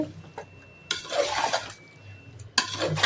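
Chicken biryani being stirred in a pot, with bursts of scraping and clattering utensil-on-metal sounds separated by quieter pauses, close up and with no talking.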